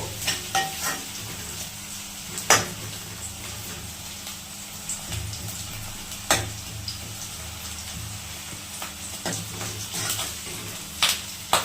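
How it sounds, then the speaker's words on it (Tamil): Onions sauté in groundnut oil for a tomato buttermilk curry, giving a continuous close-up sizzle with scattered scrapes and clinks as a spoon stirs the pan. "இந்த அளவுக்கு வதங்கினா போதும் வெங்காயம்."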